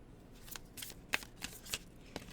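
Oracle cards shuffled and handled close up, a string of soft papery riffles and crisp snapping flicks at an uneven pace, quiet and with no talking.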